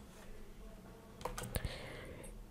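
Someone types on a computer keyboard at a Windows 10 PC: a short burst of a few quiet key clicks in the middle, faint over a low room hum.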